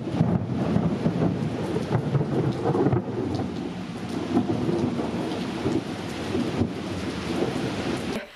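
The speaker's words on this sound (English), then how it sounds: "I got caught in a major storm." Heavy rain pours steadily during a thunderstorm met on a bikepacking overnighter, with rolling rumbles of thunder underneath and a dense, continuous wash of drops filling the whole stretch.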